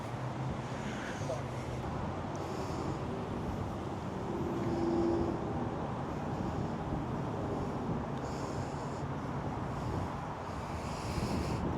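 Wind gusts across Tiburon Golf Course and buffets the microphone with a continuous low, rough rumble that swells slightly midway, while muffled voices sit faintly underneath.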